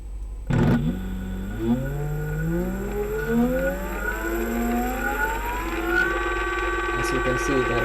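An e-bike hub motor with its clutch assembly and gears runs close by, whining steadily and rising in pitch as it spins up, with a faint low hum throughout.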